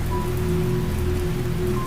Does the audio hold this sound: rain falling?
yes